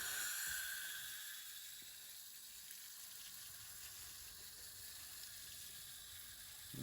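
A garden hose sprays a gentle stream onto a car wheel, giving a faint, steady hiss of running water that continues evenly throughout.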